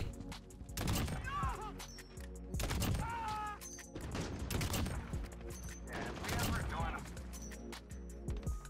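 Sniper rifle shots fire in the video game Modern Warfare, sharp loud cracks spaced about a second or two apart, with players talking over the gunfire.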